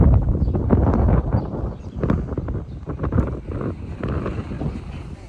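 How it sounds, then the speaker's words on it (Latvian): Strong wind rumbles and buffets the microphone continuously near Popeye Village in Malta, loud and low, with no voices heard. "Vējš pūš, nepārtraukt."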